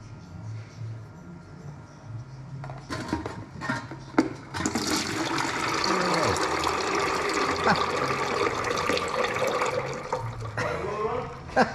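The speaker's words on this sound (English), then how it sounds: "So first of all, we'll dump the dry sump tank, then we'll drain the sump and the filter as well." Engine oil gushes out of the dry sump tank of a Mercedes-AMG GT S, starting with a few clanks, then a heavy, steady pouring splash into a drain pan, loud and close, with a brief gurgle near the end.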